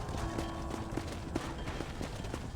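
Horse hooves clip-clop in a steady trotting rhythm on a ranch in the Red Dead Redemption video game, moderately close, over low background rumble.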